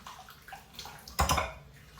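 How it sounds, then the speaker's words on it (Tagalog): Dishes being washed under running water at a sink, a soft trickling flow that bursts briefly louder as the stream hits the dishes, close by with no talk. "Tapusin ko muna itong hugasan."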